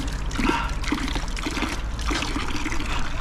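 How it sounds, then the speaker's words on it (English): Spring water flowing straight off the hills at Great Malvern, a steady close trickling and splashing stream that runs continuously without a break. "the spring water comes straight off the hills"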